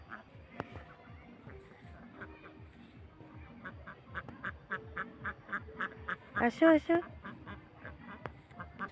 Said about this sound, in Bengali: দেখো কত সুন্দর করে হাঁসগুলো চলে আসছে বাড়িতে